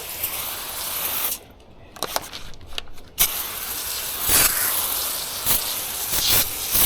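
A hand pump sprayer puts a mix of car shampoo and degreaser over the engine bay of a 2018 Honda CR-V, with loud hissing bursts close by and short pauses between sprays.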